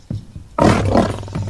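A lion gives one loud, full roar at close range. A brief low sound comes just before it, and the roar then fades into a rumbling tail.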